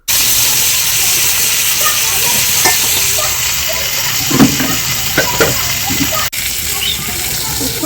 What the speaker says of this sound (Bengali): মাছ ভাজা হয়ে গেছে, আর বেশি ভাজা যাবে না।